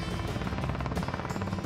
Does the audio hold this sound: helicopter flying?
yes